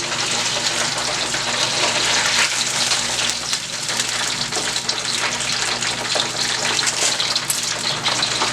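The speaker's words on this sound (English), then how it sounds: "let's go back over to our frying plantain over here, plantain chips, and see how they're coming along" Plantain chips fry in a pan of hot oil, giving a steady, dense sizzle and crackle that stays loud and even throughout, with no talking.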